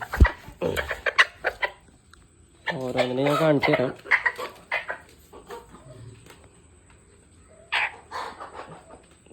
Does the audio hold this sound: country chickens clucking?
yes